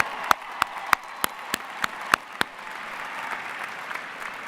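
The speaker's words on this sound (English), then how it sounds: "join me in welcoming your family and friends with a round of applause" Sparse, separate hand claps ring out at a university commencement ceremony, about eight distinct sharp claps in the first half, then a softer hall murmur.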